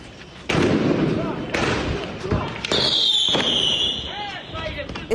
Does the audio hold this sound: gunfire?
yes